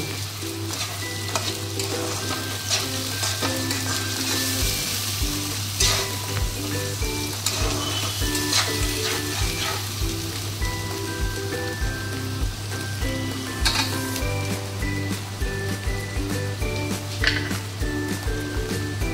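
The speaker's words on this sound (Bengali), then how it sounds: "রসুন আর কাঁচা লঙ্কা বাটা দিয়ে দিলাম। এটা আগে তেলে একটু নেড়ে নেব।" Garlic and green chili paste fries in hot oil with a busy, crackling sizzle as a utensil stirs and scrapes the pan in repeated knocks, while faint tonal music plays underneath.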